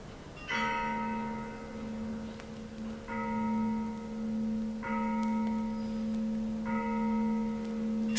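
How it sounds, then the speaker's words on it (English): Lavra monastery bells ring out in a memorial chime, four resonant strikes a couple of seconds apart, each tone sustaining and overlapping the next, heard clearly without voices. "I heard the chime of the memorial ringing from Lavra's monastery bells"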